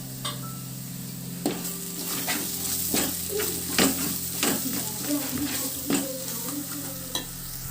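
Chicken frying with chili powder in a pan, stirred with a utensil: steady close sizzle under a series of sharp scraping strokes and clinks against the pan at an uneven rhythm, no talk.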